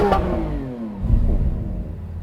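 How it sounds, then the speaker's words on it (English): A Lamborghini Aventador SVJ V12 revs hard, its loud engine note sweeping down as the revs fall, then rumbling with a low burble close by. "Now let's have some revs chaosness with the SVJ."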